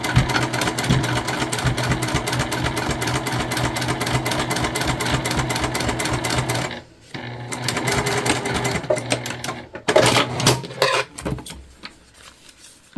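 Sewing machine stitching a cotton key fob wallet, a fast steady close chatter of needle strokes that stops briefly midway, resumes, then breaks off into a few handling knocks near the end.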